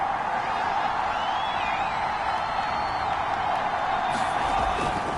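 Steady, distant roar of a stadium crowd in the Madden football video game, a constant wash of home-field noise with faint whistles and cheers, sitting under a commentator's voice.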